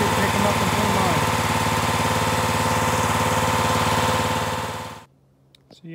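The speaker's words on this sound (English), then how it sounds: "I'm just going to use the tractor to pick them up and put them on." A tractor engine runs at a steady idle, a loud, close, continuous mechanical drone with a rhythmic throb, then cuts off abruptly near the end, leaving faint scattered noises.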